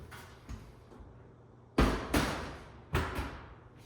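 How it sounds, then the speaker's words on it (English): An oven door is lifted off its hinges and pulled free, giving a few sharp close clunks and heavy thuds spaced a second or so apart over a low background hum. "lift the door up to a 45-degree angle, then you're just gonna slightly lift up and then pull out"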